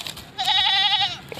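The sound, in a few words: buck goat bleating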